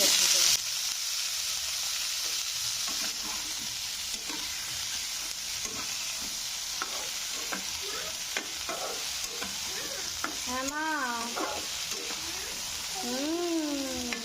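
Bitter gourd and pumpkin fry in oil in a home kitchen pan, giving a steady close sizzle. Stirring scrapes break through irregularly, and a couple of short, meow-like calls rise over it near the end.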